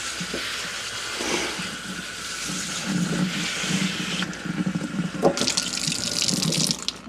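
Water pours steadily onto a potted plant set in bonsai grit, a continuous splashing trickle with a change in the flow partway through.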